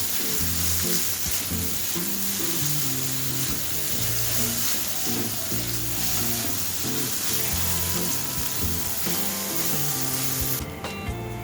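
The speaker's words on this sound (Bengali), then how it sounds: "এবার অল্প কিছু সময় নিয়ে সোয়াবিনগুলোকে ভেজে নেব।" Soybean chunks coated with salt, turmeric and chili powder fry in oil with a loud, constant sizzle and hiss, and the chunks are stirred through the pan as the cooking continues.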